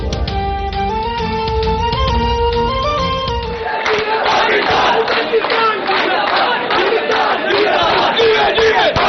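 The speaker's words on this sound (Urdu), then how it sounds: "کراچی ایئرپورٹ پر اہلکاروں کی جانب سے پاک فوج زندہ باد کے نعرے" Airport staff at Karachi Airport chant Pakistan Army slogans during a Kashmir solidarity rally, a loud crowd of voices shouting in unison, first over a musical or tonal backdrop, then as dense, energetic rally chanting.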